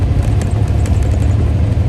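Air and exhaust escaping through a bolt hole on a truck engine's Jake brake, a steady close rumble with a raspy chatter over it, running without a break.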